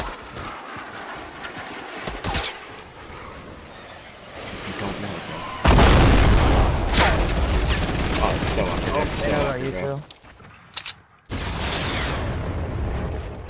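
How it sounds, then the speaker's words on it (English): Video game firefight with grenade explosions and bursts of gunfire, a loud sustained barrage starting midway, briefly dropping out before resuming, with players talking over it. "He's grenading you, I think, from the other side."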